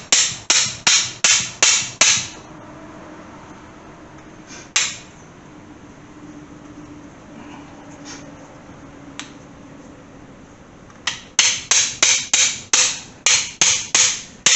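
Sharp metallic taps knock at a stuck socket: a quick run of about six, a few isolated hits, then a final rapid series of about nine.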